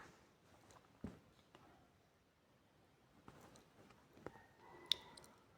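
Mouse clicks on a sell button in a trading platform, a few sharp faint clicks spaced across a quiet stretch, with a brief electronic chime near the end.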